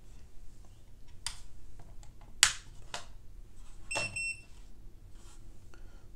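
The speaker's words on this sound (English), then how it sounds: "hold this button here until you hear a beep" A single short electronic beep from a Rollo label printer rings out faintly amid quiet background clicks and light handling noise.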